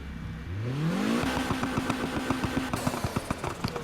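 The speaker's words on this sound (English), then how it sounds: "I never really have liked the sound of the stock LOTUS" Stock engine of a Lotus Exige S in the racing game Need for Speed Heat climbs steeply in pitch as it revs, then settles into a fast, steady pulsing throb, loud and close, with no talking.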